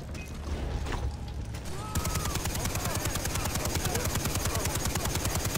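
Sustained automatic gunfire in the shooter Far Cry 3, a fast, even machine-gun rattle that starts halfway through and continues loud and close over constant background rumble.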